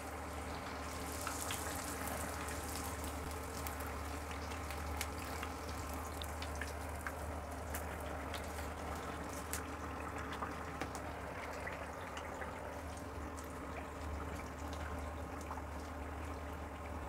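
Bhature deep-fry in hot oil in a large kadai, a continuous dense sizzle and bubbling hiss that holds steady and close for the whole stretch, with no voices over it.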